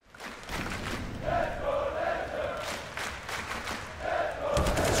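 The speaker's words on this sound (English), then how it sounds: "This crowd was silent for a while, but they got something to cheer about." Esports arena crowd at the CS:GO Paris Major erupting into cheers and shouts, a loud sustained roar from a large audience with a commentator talking over it.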